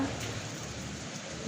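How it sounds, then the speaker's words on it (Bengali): Heavy rain pours steadily during Cyclone Remal in Bangladesh as a dense, unbroken hiss fills the air. No voices are heard over it. "অসম্ভব বৃষ্টি"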